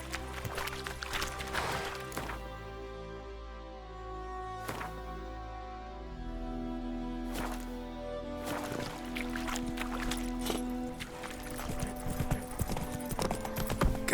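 Horse hooves pounding in The Witcher 3 video game on PS5, a steady running gait over sustained ambient game music, moderately loud and continuous throughout.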